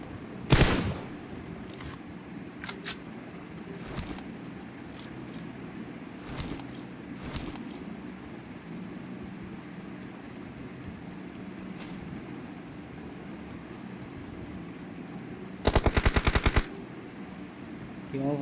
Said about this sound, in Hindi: क्यों फायर करी है ना बेफालतू से